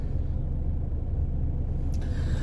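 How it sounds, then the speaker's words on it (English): A car passing loudly outside, a heavy low rumble of engine and road noise that stays steady and close throughout, with a brief higher hiss near the end. "Car, you're getting loud."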